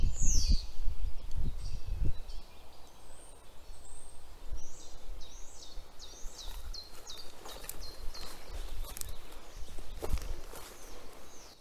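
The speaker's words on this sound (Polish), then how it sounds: "jak pięknie tutaj śpiewają ptaki." Morning birdsong outdoors around a Viking hut, faint high chirps and short warbling calls repeating in the distance over a hiss of ambient noise, with a few heavy thuds near the start.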